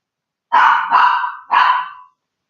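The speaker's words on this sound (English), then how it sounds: "You got a piercing bark." A dog gives three loud, close, piercing barks in quick succession, each drawn out and slightly whining, with silence before and after.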